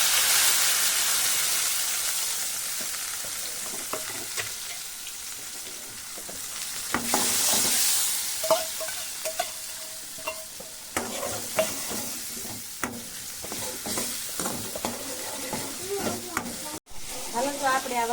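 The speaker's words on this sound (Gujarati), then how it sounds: "આ જીરું નાખી દેવી અને આ હિંગ નાખી દેવી અને આ ટમેટા અને લીલા મરચાં" Cumin, asafoetida, tomato and green chilies sizzle in hot oil as a tempering for dal dhokli, with steady frying hiss, a louder burst of spitting midway and scattered stirring clinks throughout.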